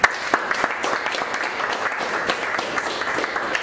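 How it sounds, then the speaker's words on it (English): Sustained applause from an audience at a sports awards event, steady dense clapping that stays at an even loudness throughout with no talk over it. "And I think you deserve a round of applause."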